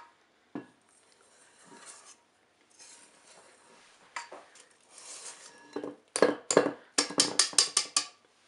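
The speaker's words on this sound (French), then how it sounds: "On va ajouter également les jaunes d'œufs. Et on va mélanger délicatement." Egg yolks gently stirred into a batter in a bowl, giving soft scraping at first and then a quickening run of close, clinking utensil strikes against the bowl, with no voice.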